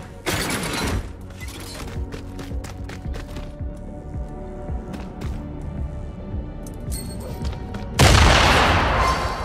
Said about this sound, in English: Try throwing a grenade at the target.